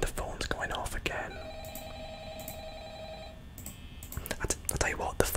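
An office telephone rings in Five Nights at Freddy's, a bright electronic trill lasting about two seconds, set amid soft whispered talk and small clicks and taps.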